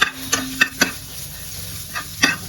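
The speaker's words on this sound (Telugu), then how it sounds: "సో ఇట్లా బాగా వేగాలన్నమాట" Four red and two green chilies frying in a pan: a few sharp spatula taps against the metal over a faint, low sizzle, close and without voices.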